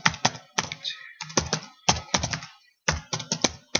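Computer keyboard keys tapped in quick bursts, typing out a search keyword, with short pauses between clusters of clicks; close and clear with no talking.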